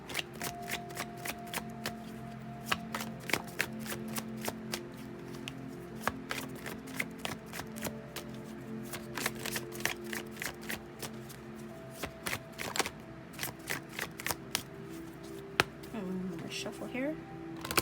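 Tarot cards are shuffled by hand in a steady stream of crisp riffling taps and flicks, close and continuous throughout, with a faint hum underneath and no talking.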